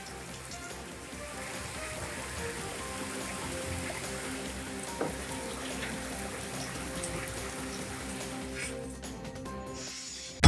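Morning rain falling in Dadar, Mumbai, a steady, even hiss of drops on surfaces that holds at one level throughout, with no voices.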